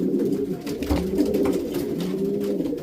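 A racing pigeon hen coos steadily up close, a low throaty murmur that rolls on without a break.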